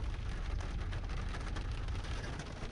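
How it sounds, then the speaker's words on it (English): Rain falls steadily at a lakeside on a cold 36-degree day, an even, dense wash of drops with no pauses or voices. "Yeah, it's raining"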